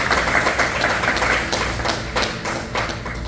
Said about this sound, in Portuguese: Quem pode aplaudir Jesus?